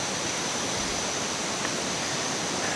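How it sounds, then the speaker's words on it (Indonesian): A large river rushes in a remote valley near Mojokerto at night, a dense, steady roar of flowing water filling the whole clip with no pauses. "Kalian lihat di sebelah kananku ada sebuah sungai yang besar"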